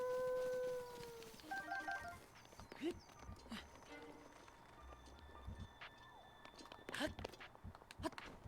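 Wolves howling in Breath of the Wild: a long sustained howl opens, then higher yelping howls layered over game footsteps and effects, moderately close, with faint talking nearby.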